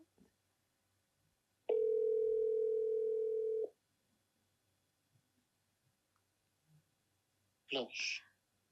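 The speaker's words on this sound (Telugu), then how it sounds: "వీడియో కాల్ వెళ్ళిపోయింది, అలవాటు కదా, రెగ్యులర్ కాల్ చేస్తా." One steady ringback tone of an outgoing regular phone call sounds for about two seconds over near silence. A voice answers briefly afterward.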